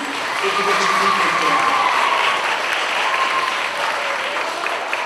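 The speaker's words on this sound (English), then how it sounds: "I'd like a big round of applause for all the students" At a school's student government election assembly, a large audience gives a big round of applause for the students, a dense, loud, even wash of clapping that holds steady throughout, with faint voices and cheers mixed in.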